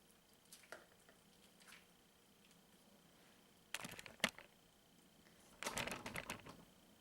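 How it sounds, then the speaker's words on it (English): Grated coconut pulp is squeezed and strained by hand to make coconut milk, giving quiet wet squishing bursts in short clusters with gaps between, close up and soft. "you just strain it out to get the pulp out of it"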